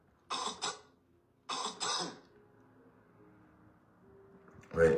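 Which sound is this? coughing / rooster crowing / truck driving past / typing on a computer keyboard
coughing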